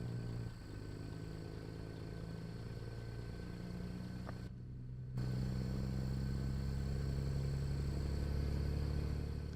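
A custom Peterbilt 379 truck engine in American Truck Simulator drones steadily with a low, even hum, briefly dipping before settling into a slightly fuller, louder idle-like rumble.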